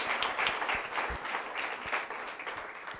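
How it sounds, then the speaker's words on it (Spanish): A church congregation applauds during a worship service, producing steady, moderately loud clapping that continues for a few seconds with individual claps audible within the mass. "Dele un aplauso fuerte al Señor."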